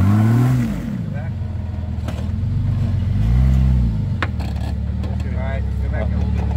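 Jeep XJ engine on 33-inch tires with lunchbox lockers, revved under throttle while a nearby man gives driving directions; the engine note swells and rises twice over a steady idle rumble.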